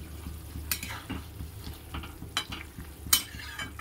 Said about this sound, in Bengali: ঝোলটা ফুটতে দিয়েছে, এরপরে মাছগুলো ছেড়ে দেব।